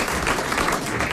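A studio audience applauds on a French radio game show, a dense, steady wash of clapping at moderate volume throughout the short burst.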